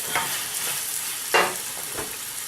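Chilies stir-fry in a hot pan, a soft steady sizzle broken by a few sharp scraping strokes of a utensil, close and alone without talk.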